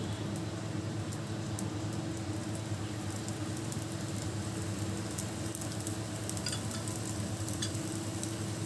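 Bobbatlu frying in ghee on a pan, a faint, even, continuous sizzle with light crackles that holds steady throughout.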